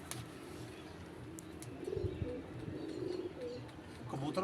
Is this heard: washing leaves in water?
no